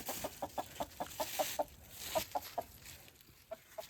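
Soft, quick clucks from chickens, a rapid run of short calls with a brief pause midway, fairly quiet and close by.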